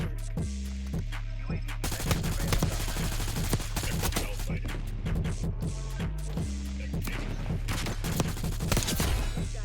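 Rapid gunfire rattles through a gunfight in Black Ops 6, an Ames 85 rifle loadout in use, dense volleys of loud shots layered over game music.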